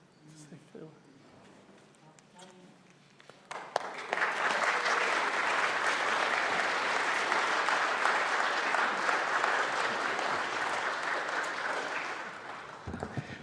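A loud, steady burst of applause from an awards ceremony crowd starts suddenly and holds for about nine seconds, after a brief stretch of quiet talking.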